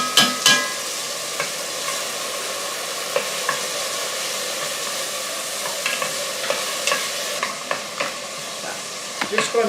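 Frozen pre-chopped onion sizzles loudly in a preheated pan, a steady dense crackling hiss with occasional spoon or spatula clinks from stirring, close and without speech.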